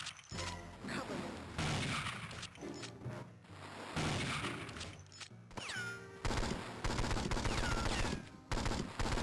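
Rapid bursts of gunfire from the Game Boy Advance game 007: Nightfire, repeated volleys of sharp shots mixed with game sounds and brief gaps.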